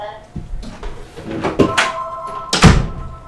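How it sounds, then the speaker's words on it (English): An indoor door swings shut with a few soft knocks, then a solid closing thud near the end, while a person talks nearby. "I'll just close the door"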